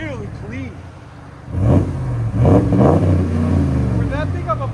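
2023 RAM 1500 pickup with a 5.7L HEMI E-Torque V8 and Magnaflow cat-back exhaust revs loudly nearby, a deep engine roar rising in bursts, with people talking over and around it.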